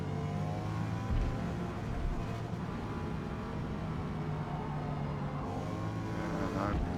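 Toyota Supra GR racing hard around the Hakone circuit in Forza Motorsport, a steady droning engine note with slight pitch swells as it accelerates through corners, continuous and fairly close.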